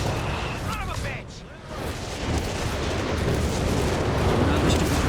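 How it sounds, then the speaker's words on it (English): Artillery barrage in the strategy game Company of Heroes 3, with 105mm Sherman tanks in the fight: dense, rolling distant booms and gunfire layered continuously, with a voice commentating over the din. "Another stupid barrage."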